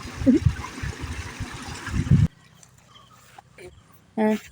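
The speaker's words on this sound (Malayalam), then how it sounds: "വെള്ളത്തിൻ്റെ ശബ്ദം കേൾക്കാമല്ലേ ഇവിടെ നിന്ന് ഇങ്ങനെ വെള്ളം വീഴുന്നുണ്ട്" Water falls and trickles steadily on a farm, a loud continuous rush for about two seconds that then cuts off, leaving a quieter background where a voice speaks.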